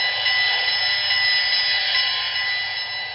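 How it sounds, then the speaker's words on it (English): A locomotive bell comes from the sound decoder of a BLI GS-4 model train, heard as a loud, steady metallic ringing that holds continuously and alone for about three seconds. "Bell."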